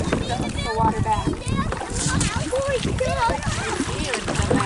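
Children paddle a boat together, splashing and sloshing water continuously at close range under steady chatter from kids and an adult.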